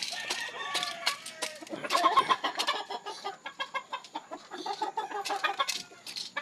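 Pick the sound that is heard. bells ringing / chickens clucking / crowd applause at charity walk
chickens clucking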